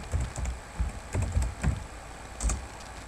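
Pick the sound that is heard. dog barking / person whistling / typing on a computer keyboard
typing on a computer keyboard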